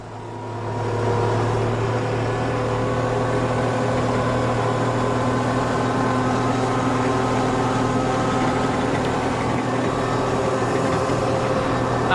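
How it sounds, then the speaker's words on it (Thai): A farm tractor engine runs steadily and close by, a loud, continuous low hum with a strong drone throughout, heard alone with no talking. "นั่งรถไถแล้ว"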